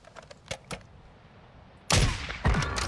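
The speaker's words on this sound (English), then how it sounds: "Taking fire!" Gunfire in Call of Duty on Ashika Island: a few scattered distant pops, then two loud, close bursts of rapid automatic fire near the end.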